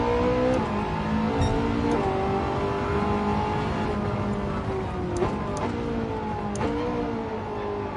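A car engine drones steadily in the racing game Gran Turismo 7, a loud, continuous mid-revving hum with brief shifts in pitch as the car drives on, with no talking over it.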